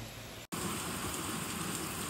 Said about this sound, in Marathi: मित्रांनो पाऊस बघा